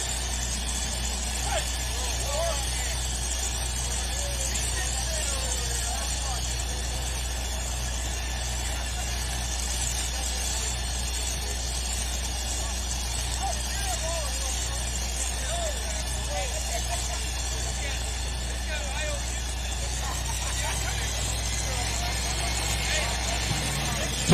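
Duramax diesel engine in a super stock pulling truck at a tractor pulling championship, a loud continuous roar held steady throughout with an announcer talking over it.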